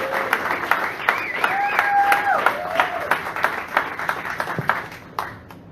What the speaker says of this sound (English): Give yourselves a round of applause for everybody who was up here earlier